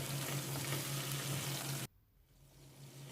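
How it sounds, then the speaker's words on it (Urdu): Chicken pieces sizzle steadily with onions in a hot pan for biryani, a dense close frying hiss that suddenly drops to a quieter, softer simmer partway through. "یہ چکن میں نے اس میں شامل کر دی ہے اور چکن کو پیازوں کے ساتھ تھوڑا سا فرائی کرنا ہے"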